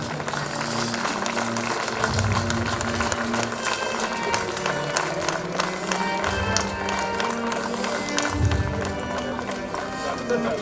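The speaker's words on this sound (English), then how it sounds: "A big round of applause for John D'Souza" Applause from an audience honoring an alumnus at a high school nostalgia day event, rapid and continuous clapping with a low rumbling hum underneath and intermittent voices in the background.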